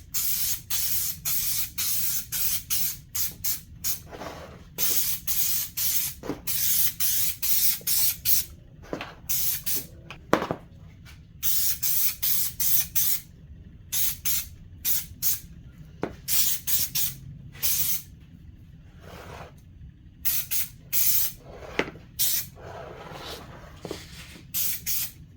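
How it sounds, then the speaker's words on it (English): Aerosol spray can coating a 2006 Honda CRF250R dirt bike during an engine rebuild, heard as repeated close hissing bursts of a few seconds each, separated by short pauses, with no talking. "And then you just want to spray this stuff on here."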